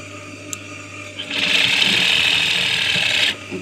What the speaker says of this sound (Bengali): এখন সেলাইটা শুরু করে দিলাম।